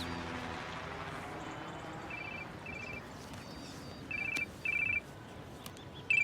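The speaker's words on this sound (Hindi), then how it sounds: "पलक का फोन, उठाऊं?" A phone ringing in short repeated electronic bursts, starting softly and growing louder and closer over a faint steady background tone, with no talking.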